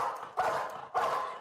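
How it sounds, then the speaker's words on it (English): Police dogs bark in two sharp, loud, close outbursts with a short pause between them, carried over a crackly channel with no voices. "Surrender now, or we're releasing the dogs, and the dogs will bite."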